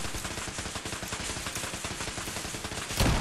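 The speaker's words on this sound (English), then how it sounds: "I don't like being shot with lasers." Rapid laser gunfire from a firefight in Fallout 4's Nuka-World fills the scene with steady, dense rhythmic bursts, loud and continuous, ending in a sharper blast.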